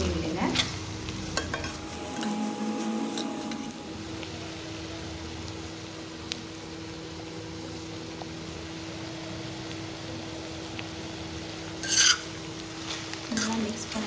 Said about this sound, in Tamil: ஆட் பண்ணிட்டு நல்லா மிக்ஸ் பண்ணி விடுங்க.